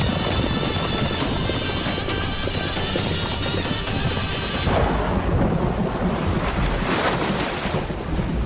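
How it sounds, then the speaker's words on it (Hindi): Heavy thunderstorm raging over mountains, a dense continuous roar of wind and rain with rumbling thunder that swells louder midway, broadband and close, no voices. "जैसे जैसे पहाड़ों की जानिब बढ़ रहे हैं, तूफान का जोर भी बढ़ता जा रहा है भाई"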